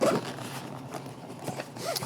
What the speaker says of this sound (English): But it zips.